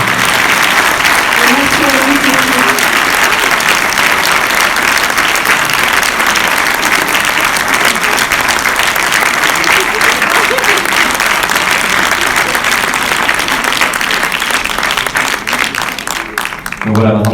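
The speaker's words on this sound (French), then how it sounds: "messieurs, dames, les applaudissements, Julien Manican, Denis Smith, Maurice Cornil" A large audience claps loudly and continuously, a dense wall of applause that holds steady before tapering at the very end.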